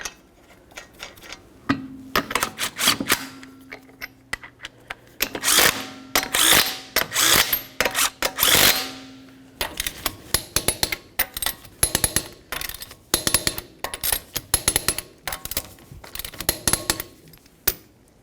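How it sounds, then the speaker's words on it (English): 19mm lug nuts on a 2003–2007 Honda Accord wheel being run down with a power tool in short whirring bursts, followed by a string of sharp ratchet-like clicks from torquing to 80 foot-pounds. "continue on with your 19mm lug nuts. We'll start them in, bottom them out"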